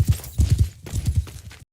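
Horse hooves clip-clopping in a Mount & Blade II Bannerlord battle, two quick bursts of muffled, rhythmic hoofbeats as if heard from behind an obstacle, ending abruptly.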